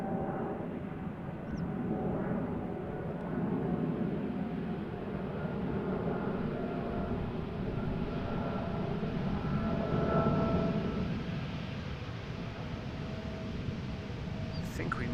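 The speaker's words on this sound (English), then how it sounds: "So, A320neo first. EasyJet arriving from Copenhagen" An easyJet Airbus A320neo arriving from Copenhagen at Amsterdam Schiphol makes a steady, moderately loud jet roar that holds evenly throughout, with a faint voice intermittently underneath.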